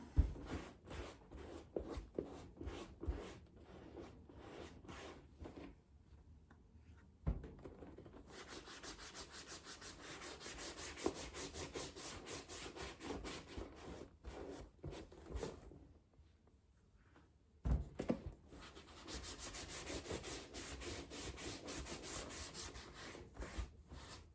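A cloth rubs leather cleaner into a purse in quick, repeated scrubbing strokes, soft and close, pausing briefly twice before resuming.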